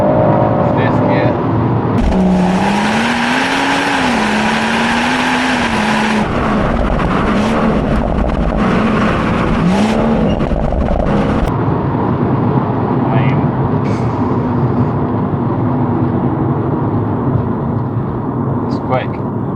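A BMW M140i accelerates hard through the gears, its engine drone rising and shifting in pitch with each upshift, loud and close inside the cabin, with someone talking over it.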